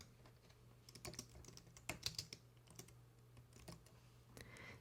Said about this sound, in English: I'm going to type some text.